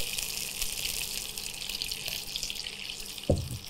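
Water pours steadily into a pan of hilsa fish curry, a continuous close gushing stream with a brief splash near the end and no talk.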